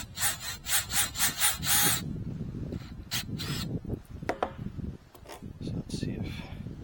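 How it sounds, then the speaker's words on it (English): A power drill with a step bit bites in with a rapid series of rhythmic grinding bursts, then stops, followed by scattered clicks, scrapes and handling noises nearby. "I'm going to start using this this step bit here to drill a hole through"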